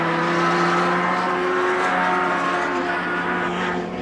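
BTCC touring cars, Vauxhall and BMW, race past in a loud, continuous blur of engine roar that holds steady and fades slightly at the end, with no voices.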